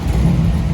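A 1968 Chevrolet Camaro rolls past at a classic car show cruise, its engine a loud, close, steady low rumble in one brief pass.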